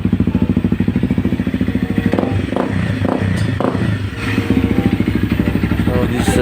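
A water-cooled Honda CRF250L fitted with a full-system aftermarket muffler idles loud and close with a steady pulsing thrum, briefly blipped a few times midway before settling back to a rhythmic idle.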